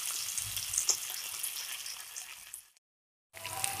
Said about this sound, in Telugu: ఆయిల్ హీట్ అయిన తర్వాత చేప ముక్కలను ఒక్కొక్కటి కట్టించుకొని ఆయిల్లో వేసుకుందాం